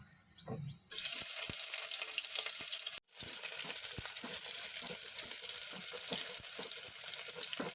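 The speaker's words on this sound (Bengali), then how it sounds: "এখন তেলটা গরম হলে আমি এখানে কাঁচামরিচ পেঁয়াজ কুচি এগুলো দিয়ে" Chopped onion and green chilli hit hot oil in a pan for a shrimp curry, bursting into a loud, steady sizzle after a brief quiet start, with a short break midway before the frying roars on.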